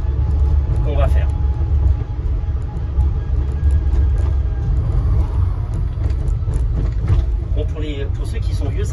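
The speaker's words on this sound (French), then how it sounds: "on entend beaucoup le bruit de l'électrique" A Citroen Ami electric car drives through Paris, its motor giving a low steady hum and road rumble beneath the cabin, while a person talks over the noise for most of the stretch.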